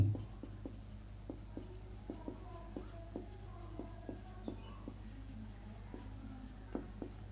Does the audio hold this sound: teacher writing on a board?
yes